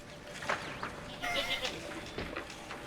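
Goat bleating in the video game Homefront, a few wavering, nasal cries over a steady background of game ambience.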